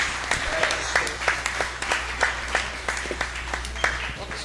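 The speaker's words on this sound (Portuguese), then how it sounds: "Aplauda o Senhor" A church congregation applauds during a worship service, a steady patter of claps running through the whole stretch with sharper individual claps popping out, set over a low continuous hum.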